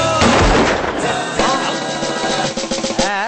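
Rapid cracking gunshots at a shooting stall in an exhibition fair in Hosur, loud and close, a burst of reports with echoing fairground noise behind.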